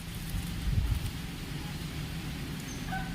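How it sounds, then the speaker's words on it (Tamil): Steady wind blowing beneath a mango tree outdoors, a continuous low broadband rush with a brief stronger gust near the start, faint and without talk. "அம்மா காத்து பாருங்க எப்படி காத்து அடிக்குதுன்னு மேல"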